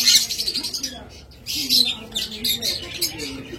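A pair of lutino opaline budgerigars chirps and squawks in quick, overlapping bursts close by, a continuous busy chatter with a brief lull partway through and a voice murmuring low underneath.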